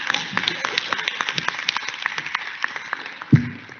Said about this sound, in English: You almost got a clap from all of your colleagues there